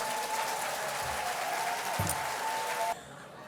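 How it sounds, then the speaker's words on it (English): Audience applause fills a nurses' awards gala hall, a steady continuous wash of clapping that holds for about three seconds and then cuts off abruptly. "Give yourselves a round of applause."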